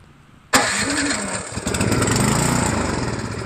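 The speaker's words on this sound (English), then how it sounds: "So I just put the spark plug in, we put some carb cleaner into the hole, and electric start it." A Craftsman snowblower with a clogged carburetor is electric-started after carb cleaner is sprayed into the intake. The starter whirs briefly, then the small engine fires and runs loud and steady, close by and with no talking.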